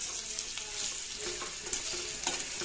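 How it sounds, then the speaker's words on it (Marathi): Masala-stuffed bitter gourd (karela) stir-fries dry in a pan, a close, even sizzle broken by a few sharp scrapes and clicks of the spatula. "याला चांगलं मस्तपैकी असं परतून घ्यायचं आहे"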